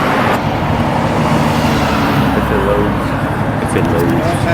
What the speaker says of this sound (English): As you could hear, like there's a couple nice cars out here